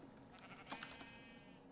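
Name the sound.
sheep bleating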